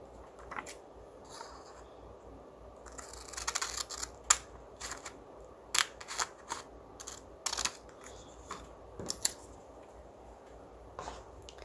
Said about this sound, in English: So I'm going to fold up a third and cut off this excess.